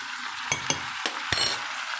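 Coriander leaves being stirred into tomato chutney in a pan, with a few distinct scraping taps of a spoon against the pan over a low, steady sizzle, close by and without talk.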